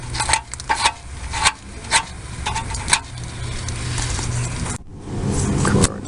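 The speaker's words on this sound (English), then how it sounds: "Let's scrape some of this away." Scraper rasping at an old exhaust gasket on a 2004 Toyota Tacoma, heard as several sharp scraping strokes followed by a steadier grinding rub, close and fairly loud.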